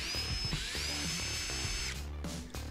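A power drill backs out screws from the seat base of a Yamaha jetboat, a steady close whine that runs unbroken for about two seconds before dropping away into a few short clicks and taps.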